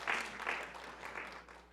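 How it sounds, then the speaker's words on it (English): A short burst of audience clapping at a talk on Asian Americans in a multi-racial democracy, moderately loud at first and thinning out over under two seconds, with no voices over it. "Yeah, you can applaud that."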